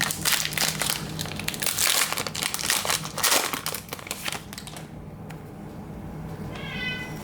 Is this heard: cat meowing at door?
yes